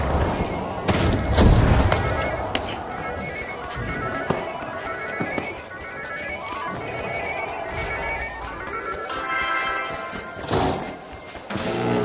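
In The Finals, a frag grenade is tossed and bursts amid a chaotic firefight, with a heavy thump and crash, scattered gunfire and smashing debris layered over constant game noise.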